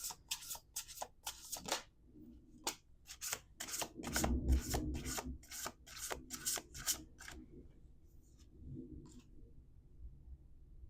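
Tarot cards are shuffled by hand in a quiet room, a run of crisp riffling snaps in quick succession, fairly faint and close, then fewer scattered flicks.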